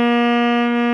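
A saxophone holds one steady, loud sustained note from the opening of Amazing Grace, clean and unaccompanied.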